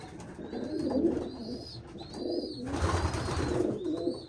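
Soft, low cooing from racing pigeons repeats in a loose rhythm, with chirps and light rustling nearby, no voices.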